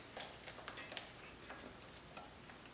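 A whisk combines wet and dry ingredients for jicama blueberry mini waffle batter, making faint, quick rhythmic taps and scrapes against the bowl.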